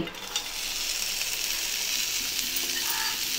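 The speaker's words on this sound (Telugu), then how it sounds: "చిన్న ఫ్లేమ్ మీద ప్యాన్ పెట్టి కడిగి ఉంచుకున్న పుదీనాకును వేసి" Fresh mint leaves fry in a pan over a low flame, giving a steady, continuous sizzle with soft stirring scrapes throughout, close and even in loudness.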